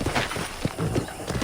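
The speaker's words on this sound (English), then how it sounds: "I picked out a fine horse for you." A horse in a Wild West ranch video game gives a short, loud whinny mixed with snorting and a few hoof clops, heard close and clear.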